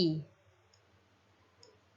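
A single sharp computer mouse click sounds near and clear at the start, followed by quiet room tone with faint small ticks.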